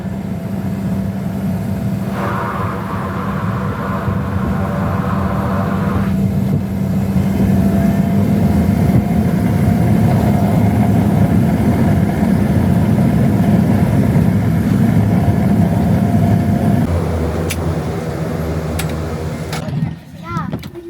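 A small air taxi plane touches down on a Denali glacier, its steady loud engine drone filling the cabin throughout, with a brief shift in tone near the end as it settles.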